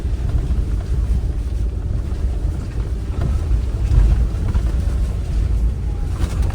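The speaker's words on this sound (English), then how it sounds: "Through the running stream." A Land Rover Freelander drives through a running stream, with steady, loud rushing water and low engine rumble washing over the whole stretch, no talk.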